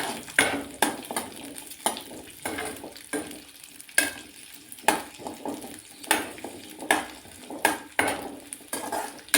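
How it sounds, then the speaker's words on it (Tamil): Onion and tamarind fry in oil, their sizzle broken up by frequent metallic scrapes and clinks of a spatula against the pan, arriving in an uneven rhythm of sharp strokes and at close range. "வெங்காயம் புளியும் நல்லா எண்ணெயில் வதங்கட்டும்"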